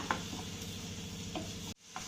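Soft, steady sizzle of chili sautéing in hot oil in a pan, with a few light stirring clicks, cut off abruptly near the end.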